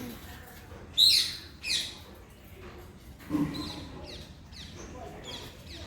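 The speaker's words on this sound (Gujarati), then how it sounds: "પોપટ જો દેખાઈ રહ્યો છે ત્યાં થાંભલાની ઉપર બેઠો છે સરસ મજાના અવાજ આવી રહ્યા છે" Several sharp, high parrot calls ring out in short bursts, a couple loud and close from one perched on a pole, with fainter chirps scattered behind them outdoors.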